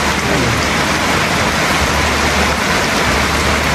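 Heavy rain pours down steadily, a dense, constant hiss with no pauses and no voices.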